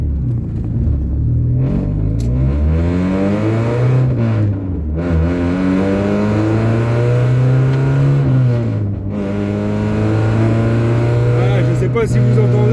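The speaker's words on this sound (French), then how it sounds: "Pour que vous puissiez avoir une idée du bruit quand on monte un tout petit peu dans les tours." Mazda MX5 engine with a custom welded exhaust line revving up while accelerating on the road: loud rising and falling engine harmonics, several throttle swells over a steady rumble, close and continuous.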